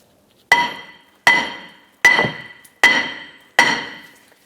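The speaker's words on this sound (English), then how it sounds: "I'm going to go ahead and use a hammer. I'm going to go ahead and tap the back side of the rotor" Five evenly spaced hammer strikes on the back of a rear brake rotor on a 2005-2010 Chrysler 300, each sharp, ringing clang decaying before the next, loud and close.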